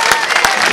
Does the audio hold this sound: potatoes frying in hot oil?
no